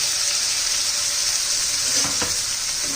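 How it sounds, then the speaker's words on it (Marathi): A ground paste of onion, coconut, garlic, ginger and coriander fries in oil for a spicy rustic bitter gourd dish, giving a steady, close, bright sizzle with a couple of soft stirring scrapes near the end and no talking. "असं तेलामध्ये परतून घ्यायचे तेल सुटेपर्यंत"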